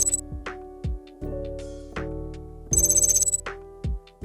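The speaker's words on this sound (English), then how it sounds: "drag and drop this digital encoding text sound effect to the timeline" Digital encoding text effect for a Premiere Pro animation: a series of short electronic beeps and chirps with sharp attacks and quick falling tails, bursts of high glitchy tones between them, fairly loud and alone.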